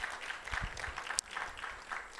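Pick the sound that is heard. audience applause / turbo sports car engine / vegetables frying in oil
audience applause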